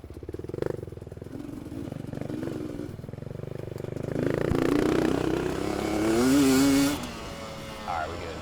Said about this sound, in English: I love the way his bike sounds,